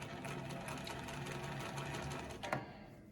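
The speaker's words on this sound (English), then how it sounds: "Sewing on a Bernina 117, L or M, either way." A Bernina 117 sewing machine sews a straight stitch, whirring in a continuous, close, rapid rhythm with a brief clunk near the end.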